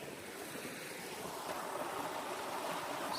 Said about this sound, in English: Still following the creek